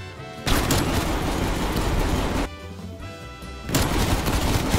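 Automatic Streetsweeper shotgun firing in a video game: two dense, loud bursts of rapid gunfire, separated by a short lull of quieter game background noise.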